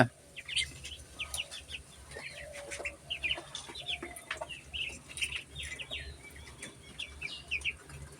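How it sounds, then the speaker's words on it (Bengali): Hungry farm ducks eat their feed, heard as a busy, close stream of short chirping calls and peeps over soft background noise, with no voices. "হাঁসগুলোর খুব খিদে লেগে গেছিলো সব খাওয়ার জন্য উঠে পাটা করতেছিল খাদে দিলাম সব খাচ্ছে"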